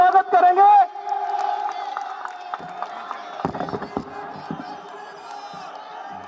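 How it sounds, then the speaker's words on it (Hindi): A large crowd cheers, whoops and claps at a BJP political rally for Yogi Adityanath in Mangolpuri, Delhi. It opens with a loud burst and a shrill whistle, then sustained applause and scattered claps continue at a steady level. "जोरदार तालियों से अभिनंदन स्वागत करेंगे।"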